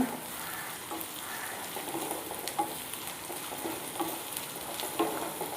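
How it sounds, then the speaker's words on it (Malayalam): Garlic and ginger sauté in a pan for a Kottayam-style fish curry, giving a steady, moderate sizzle with faint occasional stirring scrapes throughout. No voices. "നല്ലപോലെ വഴറ്റുക."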